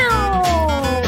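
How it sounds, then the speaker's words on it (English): A single cat meow used as a sound effect, close and clear, with a drawn-out falling tone and no talk over it. "That was a cat."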